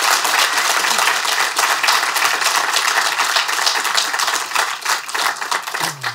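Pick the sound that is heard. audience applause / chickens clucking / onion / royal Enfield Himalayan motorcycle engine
audience applause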